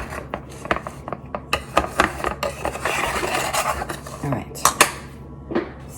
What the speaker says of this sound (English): I'm going to take a butter knife, and I'm just going to go around it and kind of just separate it from the pan